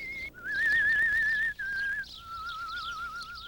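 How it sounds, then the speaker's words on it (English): A person whistles a lively melody alone, the notes wavering with vibrato, with a brief pause partway through before the tune carries on. "she'll continue to whistle the day away"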